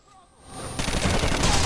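Gunfire in a shootout in the video game Rainbow Six Vegas, a dense burst of rapid shots that swells from quiet into a loud, continuous volley.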